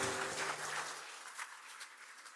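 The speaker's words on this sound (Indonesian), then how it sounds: "Kita berikan tepuk tangan." Applause from an audience at a government talent-management launch event in Jakarta, a brief burst of clapping that thins out and fades over a couple of seconds, with no talk over it.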